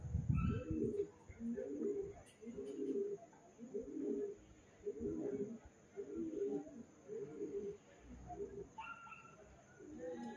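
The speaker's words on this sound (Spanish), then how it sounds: "La paloma ceniza, la blanca." Ash-grey and white pigeons cooing in a steady rhythm of repeated low coos, close by, with a few faint chirps in the background.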